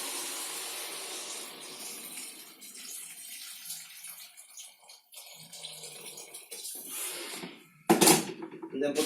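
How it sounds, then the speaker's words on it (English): Warm water pours from a tap into a soup pot, a broad hissing rush that thins and changes pitch as the pot fills, with a loud splash near the end and talk alongside. "And then just top it up with water"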